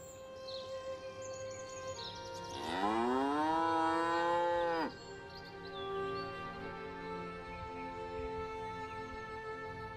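On open pastures by the wide floodplains of the valley near Ketton, a single cow lets out one long, loud, drawn-out moo, then quieter ambient sound and steady background tones continue.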